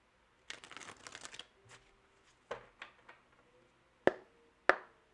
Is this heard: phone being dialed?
no